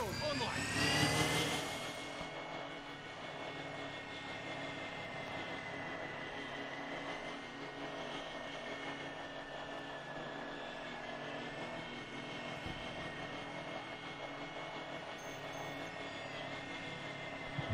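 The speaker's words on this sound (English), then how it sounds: "Recon drone online." A recon drone in the video game DMZ hums with a steady, continuous buzzing drone that holds level for the whole stretch after a brief louder burst at the start.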